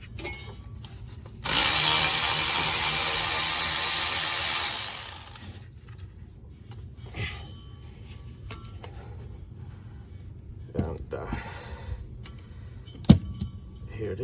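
A power tool runs steadily for about three seconds while removing the shifter bolts on a Geo Tracker during a clutch replacement, followed by quieter clicks and knocks of hand tools and parts.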